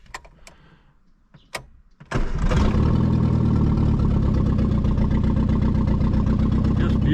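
An Austin Allegro 1300 Super, long unused during restoration, cranks after a few faint clicks and then bursts into life, settling into a loud, steady, close engine run that holds without a break.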